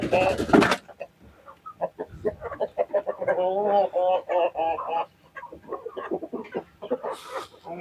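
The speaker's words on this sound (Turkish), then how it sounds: "bunlar da bizim anaç tavuklarımız" Broody farm hens cluck in short repeated bursts close by, answering after being called, while a person talks over them.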